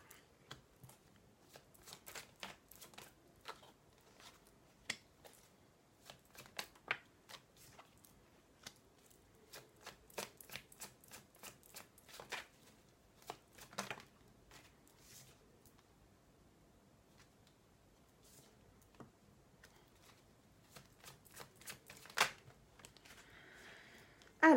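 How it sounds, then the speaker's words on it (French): Tarot cards are cut and shuffled by hand in quick bursts of crisp riffling and flicking, close and fairly faint, with short pauses between runs and no talking. "Allez, je coupe les cartes."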